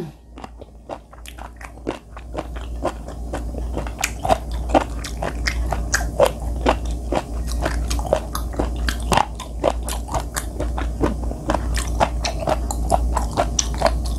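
Raw whelk sashimi piled with garlic is chewed right at the mic: a wet, crunchy, rhythmic bite-and-chew that runs steadily throughout, with no speech.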